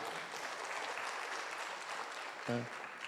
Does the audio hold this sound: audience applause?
yes